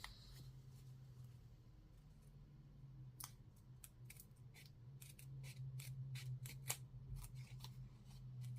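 Scissors snipping through paper while trimming a junk-journal paper craft, a rapid series of crisp, close cuts over a low steady hum, starting after a quiet stretch.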